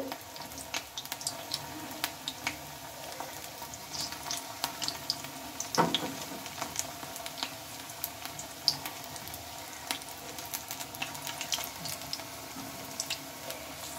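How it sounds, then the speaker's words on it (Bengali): Aubergine pakoras fry in a batch of oil, a soft continuous crackling sizzle with scattered pops and light clinks, fairly quiet and steady, with no talking. "এগুলো এখন উল্টে পাল্টে লাল লাল করে ভেজে নিতে হবে"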